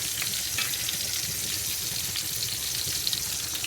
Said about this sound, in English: Let's sear just a little bit longer